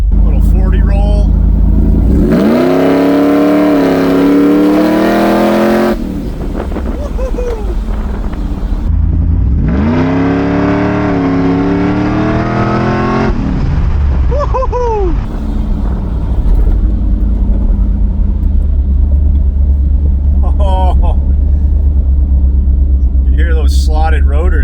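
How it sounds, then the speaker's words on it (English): A supercharged 2nd Gen SVT Lightning pickup truck roars loudly up close, engine revving hard in two long pulls with rising pitch, then a heavy rumbling idle; a voice speaks near the end. "Let's go do a burnout or something to celebrate"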